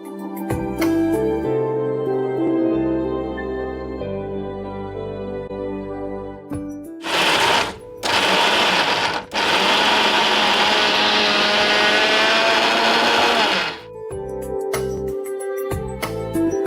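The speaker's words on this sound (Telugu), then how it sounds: "మనం దీన్ని ఇలాగే మిక్సీ పట్టేసుకోవాలి" A kitchen mixer grinder blitzes roasted peanuts into powder, a loud steady motor whir in two close bursts around 7–9 seconds, then one long sustained run of about five seconds, with background music before and after.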